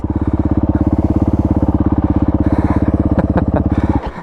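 A dual sport adventure motorcycle on a trail loop in Shropshire, its engine thumping in a loud, rapid, steady pulse close by, then easing off at the end.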